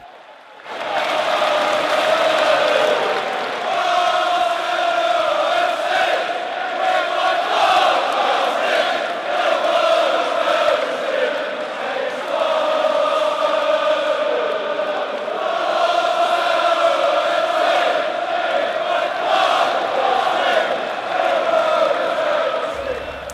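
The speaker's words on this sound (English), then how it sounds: "that crowd noise and that sounds of the game was from Arsenal" Football crowd at an Arsenal match, a loud continuous roar of thousands of fans with swelling chants and cheers rising and falling throughout, no pauses.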